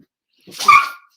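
A single short puppy vocalization, a whiny yelp rising into a bark, close and fairly loud after a moment of silence.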